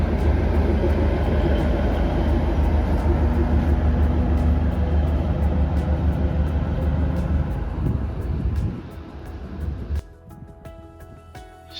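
A train on the Srinagar–Baramulla line in Kashmir rumbles loudly and steadily for most of the stretch, then its noise drops away sharply near the end.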